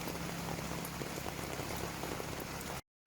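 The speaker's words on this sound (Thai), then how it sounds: "ฝนตก ฝนตกฝนตก เย็นเลยครับ นอนสบาย ฝนตกแบบนี้ ชอบ ชอบ" Steady rain falling, a dense even patter of drops on surfaces, close and continuous before a brief cut to silence near the end.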